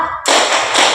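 Children and a teacher clapping in rhythm in the Tepuk Malaysia clapping game during a classroom lesson, two sharp bursts of claps close by, the second following about half a second after the first.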